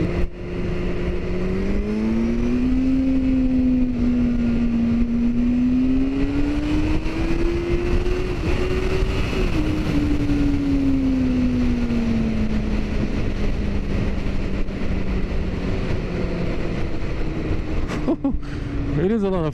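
A Kawasaki Z800 motorcycle engine drones steadily while being ridden, its pitch rising and falling with throttle through gear changes, loud and continuous under wind noise, with a rider talking over it.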